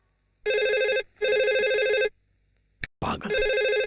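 An old-style telephone bell rings in two loud, close bursts, then a short sharp noise and a voice exclamation come just before a third ring starts.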